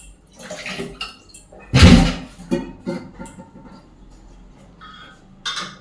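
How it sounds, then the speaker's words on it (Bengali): A whole eggplant is rinsed under running water, with irregular splashes and gushes, one louder rush midway and softer trickles and drips around it. "বেগুনটা আগে একটু গোটা ধুয়ে নেবো"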